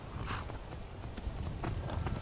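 A horse's hooves clip-clop at a walk in the video game Skyrim, steady rhythmic footfalls heard up close under a low, busy background.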